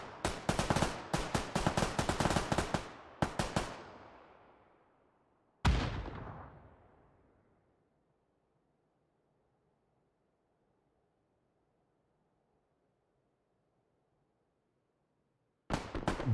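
Gunfire in the video game PUBG during a console league match: rapid automatic bursts of shots, then a single loud report that rings out and decays into a long silence, and finally another burst at the very end.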